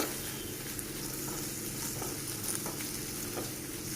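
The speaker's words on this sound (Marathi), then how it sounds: "ते छान तुपावर परतून घ्यायचं आहे" Beetroot sautés in ghee, a steady sizzle and fry that runs without a break, with faint stirring scrapes now and then.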